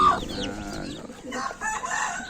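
A black Paraoakan mother hen clucks softly near her chicks, a close, moderately loud run of short, uneven calls with a few sharper, higher notes mixed in.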